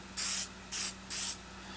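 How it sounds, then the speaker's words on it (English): Three short bursts of lacquer sprayed from an aerosol can onto copper clad board, each a close, bright hiss lasting a fraction of a second, separated by brief pauses over a faint steady hum. "now what we want to do is spray a thin layer"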